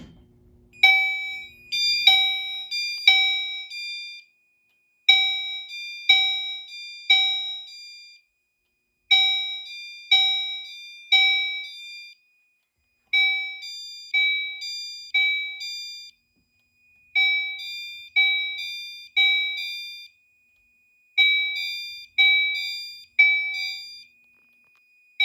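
Fire alarm system sounding after a pull station is activated, chiming in repeating groups of four bright electronic tones separated by short silences, loud and clear throughout.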